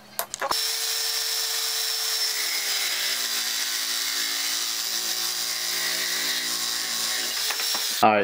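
A power tool cuts a 4-inch piece for a homemade shoulder camera mount, running as one loud, steady whine for about eight seconds with a sharp start and stop, close by and without speech.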